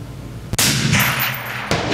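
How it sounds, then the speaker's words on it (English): A suppressed PSA PA10 Gen 3 AR10 rifle fired on an outdoor range: two loud, close shots about a second apart, each a sharp crack with a muffled boom and a short ringing tail. "Nice shooting, Tex."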